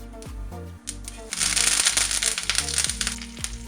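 Mustard seeds splutter in hot oil in a pan, a dense burst of crackling pops swelling after the first second and continuing in irregular bursts, close and fairly loud, with faint background tones underneath.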